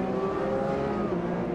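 A race car engine in the sim racing game Automobilista 2 holds a steady, tonal high-revving whine with slight pitch shifts, loud and continuous, with no speech.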